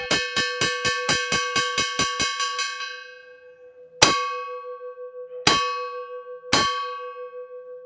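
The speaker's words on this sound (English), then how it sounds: "So after the bell is sounded" A monastery bell is struck at dawn, rung in a fast run of about ten evenly spaced clanging strokes that blur together, then three single heavy strikes a second or more apart, each ringing out and decaying slowly.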